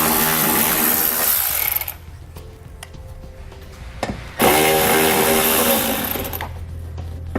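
A 10mm socket on a power tool spins screws out beneath a 2019 Lexus NX 300 during a trailer hitch install, two loud sustained whirring bursts separated by a quieter pause with faint clicks.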